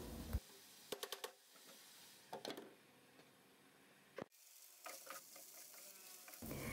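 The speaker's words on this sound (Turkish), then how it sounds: "soğanların şöyle mis gibi kavrulma kokusu gelene kadar iyicene kavuralım" Onions sauté with ground meat in a pan, a soft steady sizzle broken by bursts of close spoon stirring and scraping, with a sharp knock near the middle.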